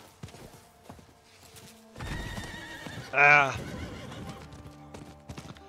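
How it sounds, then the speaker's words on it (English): A horse in Diablo 4 gives one loud, close whinny midway, surrounded by scattered hoof clip-clops and soft game thuds, with a brief spoken interjection from a player. "Get our horse out."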